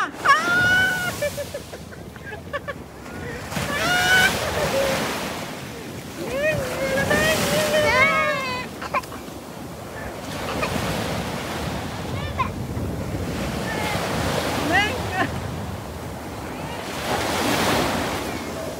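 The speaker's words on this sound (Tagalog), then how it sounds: "Laki ng alon." Large surf breaks and washes in repeated surges on the coast of Siargao, with wind buffeting the microphone and excited voices calling out over the roar of the waves.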